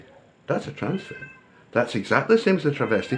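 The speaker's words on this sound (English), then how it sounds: "excuse my bloody cat" A pet cat meows in an indoor room, a couple of short, clear meows that overlap someone talking close to the microphone.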